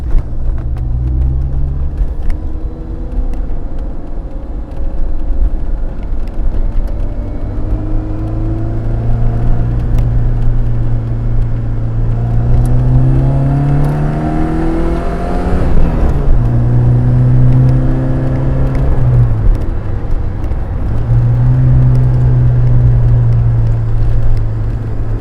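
A 1989 Saab 900 T16S turbo hatchback drives along with a steady engine drone, revving through the gears with rising and falling pitch and a brief shift around the middle, no voices present.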